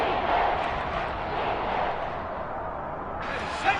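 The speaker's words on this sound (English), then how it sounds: "The crowd getting into it as we come up on a big 3rd down" Stadium crowd at a Seahawks football game roars steadily as a big third down approaches, a dense sustained wash of cheering with a slight swell near the end.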